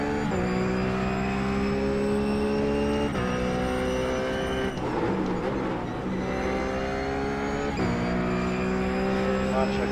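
A race car engine in a racing video game on the Nordschleife holds steady high-pitched revs, then rises through repeated upshifts with brief dips between gears, loud and continuous, with a voice talking over it.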